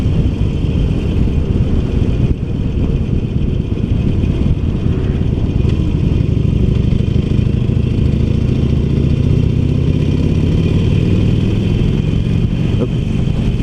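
A 2019 Harley-Davidson Iron 1200 V-twin cruiser heard while riding, a steady loud low engine rumble with wind noise and a slight rise in pitch as it accelerates.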